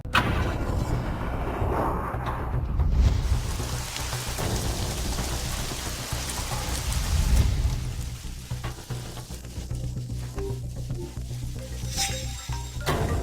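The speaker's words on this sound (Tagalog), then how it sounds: "Kuya Hanchu, kumukulog na." Steady heavy rain pours down with rumbling thunder swelling around three and seven seconds, a dense continuous storm wash with no voices.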